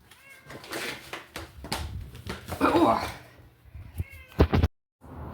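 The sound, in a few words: stray cat meowing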